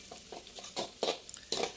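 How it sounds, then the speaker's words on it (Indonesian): Sliced shallots and garlic frying in a pan, heard as a faint sizzle under several close, distinct scrapes and stirs of a utensil against the pan in uneven rhythm. "Ini ada bawang merah, bawang putih udah diiris-iris, Mas Bri goreng gitu ya"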